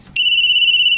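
A cellphone ringtone cuts in abruptly and rings loudly as a steady, bright electronic tone with no voices over it.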